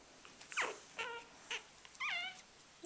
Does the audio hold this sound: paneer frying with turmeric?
no